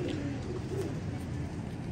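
Royal Teddy pigeons coo softly in a low, murmuring tone inside a breeding setup, a brief, gentle burble heard at close range with no voices present.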